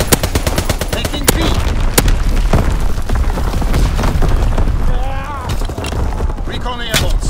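Artillery barrage in the Call of Duty WWII shooter, with a rapid string of sharp, loud gunfire reports and heavy booms packed densely over the clip, and radio-style voice callouts heard beneath the gunfire.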